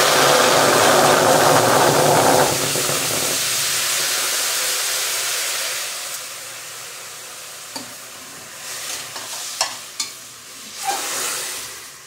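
Oil sizzles in a very hot pan, a loud, dense hiss for the first couple of seconds that settles into a softer, steady frying sound, with a few sharp clicks and pops near the end.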